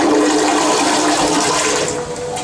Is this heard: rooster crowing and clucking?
no